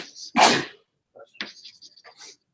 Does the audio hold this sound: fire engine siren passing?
no